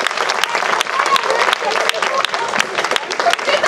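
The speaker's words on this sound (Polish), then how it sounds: "Stare Bogaczowice, sąsiedzi Czarnego Boru, wielkie brawa." Crowd applause at an outdoor dumpling festival in Czarny Bór, Poland: dense, steady clapping from many hands throughout, loud and close, with a voice speaking over it.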